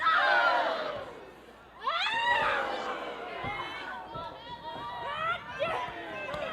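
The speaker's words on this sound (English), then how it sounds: "And you can hear the crowd." A wrestling crowd at a live match roars and cheers in loud, swelling waves, with shouts and chanting voices rising again and again as a commentator talks over the noise.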